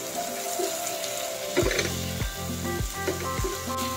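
Pechay stir-fry being stirred in a pan over steady sizzling, with several rhythmic scraping strokes of the utensil against the pan, close and moderately loud.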